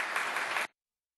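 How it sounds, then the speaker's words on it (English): Short burst of applause from attendees at a Boston City Council meeting, a steady wash of clapping that cuts off abruptly after under a second. "Let's give him a round of applause."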